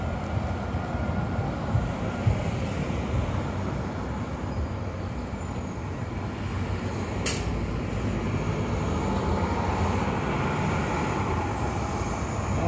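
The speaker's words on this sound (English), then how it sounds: "That's all the cars and machinery and people talking and everything all added in together." A dense, steady low roar of distant city traffic and machinery in North York, Toronto, blends into a continuous background rumble, with a brief high tone partway through.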